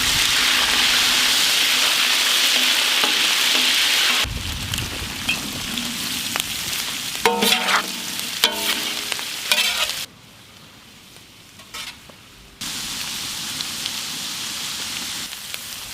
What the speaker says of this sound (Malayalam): ചെറുതായി കട്ട് ചെയ്ത മീൻ ഇട്ട് കൊടുക്കാം.